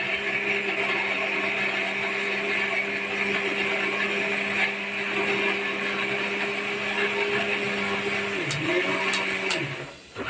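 An electric mixer grinding spice paste (masala) for chicken kosha, a loud steady motor whine that holds level, dips and wavers near the end, then winds down and stops.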